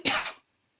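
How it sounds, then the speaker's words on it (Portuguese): A woman demonstrates a single sharp cough and throat clearing, loud and close, lasting under half a second before silence. "O primeiro deles, sem sombra de dúvida, são os pigarros e as tosses"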